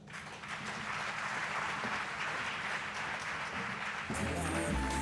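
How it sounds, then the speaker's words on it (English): An audience at a college launch event for new specialisation centres and a 4IR lab applauds after a speech, broad sustained clapping filling the hall before music and other sounds take over near the end. "Let's give you another round of applause, please."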